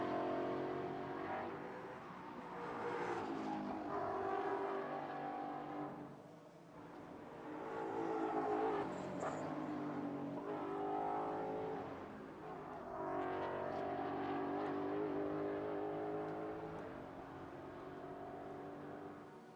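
Mustang GT4 race car running on the Jeddah circuit during pre-qualifying, its engine droning with rising and falling revs and harmonic whine through the whole stretch, fairly close and steady.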